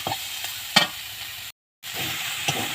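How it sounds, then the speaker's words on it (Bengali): Drumstick flowers and tender drumstick stalks fry in a pan, a soft, steady sizzle with a few sharp stirring clicks and a brief cut to silence midway. "তো চলো ভালো করে এটাকে ভেজে নিচ্ছি"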